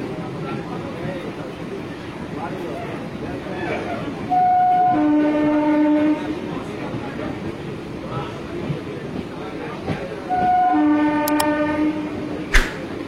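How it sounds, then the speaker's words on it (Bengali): A local train departs Kanchrapara Workshop Gate station with a steady rolling rumble, two long horn blasts several seconds apart, and a brief sharp clank near the end. "আমাদের ট্রেন এখন কাঁচরাপাড়া ওয়ার্কশপ গেট স্টেশন থেকে বেরিয়ে যাচ্ছে।"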